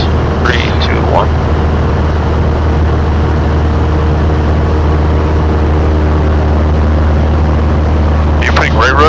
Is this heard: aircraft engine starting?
yes